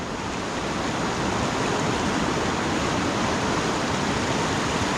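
Torrential water pours down from the Sierra Madre mountains past a wrecked bridge after a typhoon, a loud, continuous broadband roar that never lets up.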